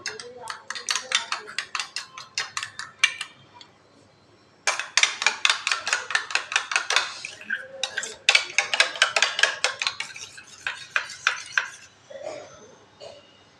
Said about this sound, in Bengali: এবার ডিমটাকে আমি খুব ভালো করে ফেটিয়ে নেব।